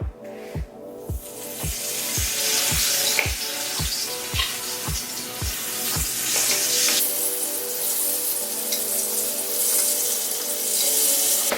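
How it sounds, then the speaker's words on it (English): Pillsbury cinnamon rolls drop into hot grease, a run of about a dozen regular low thumps over a loud, continuous bright sizzle that keeps hissing steadily once the thumps stop. "we're gonna drop them in the grease"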